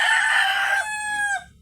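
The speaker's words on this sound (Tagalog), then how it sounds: "Ayan, mga Texas na manok yan" A Texas-breed gamecock on a farm raising derby fighting birds gives one loud, close crow that holds steady and then trails off, with no voices over it.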